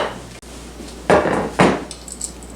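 Crust mixture is pressed into a 9x13 pan with a couple of loud, close knocks and scrapes of utensil against metal, then a few light taps, no voice present.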